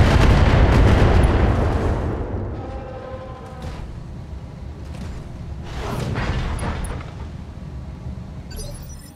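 Mech weapons volley fire in the video game BattleTech: a loud booming blast that decays into rumbling, followed by further explosive bursts and impacts, with no talk.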